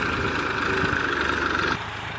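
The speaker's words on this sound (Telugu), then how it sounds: "ట్రాక్టర్తో మరి పొలాన్ని అయితే లైన్గా దున్నబోతున్నాం" A tractor engine drones steadily while ploughing a paddy field in straight lines, holding a close, even hum before dropping in level near the end, with no talk.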